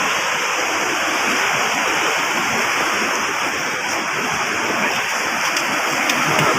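Stream water rushes over rocks in Kashmir as a loud, unbroken roar with a constant hiss, close by and filling the whole span with no voices over it.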